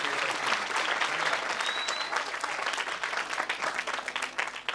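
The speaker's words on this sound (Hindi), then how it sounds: "एक बार जोरदार ताली होना चाहिए" An indoor audience at an event in Ravindra Bhawan, Bhopal, breaks into a sustained burst of loud, dense clapping that fills the hall throughout.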